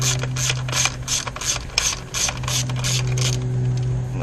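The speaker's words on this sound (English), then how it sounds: "you need your 10mm socket again, and you're gonna remove this bolt" A ratchet fitted with a 10mm socket clicks in quick, regular bursts while removing a bolt during ignition coil replacement on a 2002 BMW 325i. The clicking is close-up and crisp, with brief pauses between strokes.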